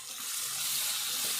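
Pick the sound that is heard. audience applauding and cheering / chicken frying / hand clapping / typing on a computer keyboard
chicken frying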